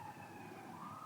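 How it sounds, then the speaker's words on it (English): Police siren in the distance, a thin wailing tone that slowly rises and falls while it drifts off, faint and steady with no one talking. "as the police siren fades away"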